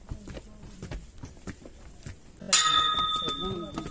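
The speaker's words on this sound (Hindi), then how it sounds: "घंटी बाजला" A temple bell at the Dhauli Giri hill temple in Odisha, heard at night, rings out suddenly halfway through with a bright, sustained metallic clang after a stretch of quiet talk and shuffling footsteps.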